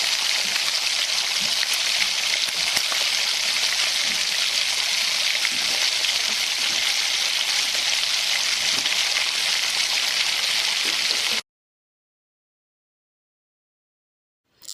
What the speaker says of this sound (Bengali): এবার চিংড়ি মাছে নুন হলুদ দিয়ে সবার আগে আমি ভেজে নিচ্ছি।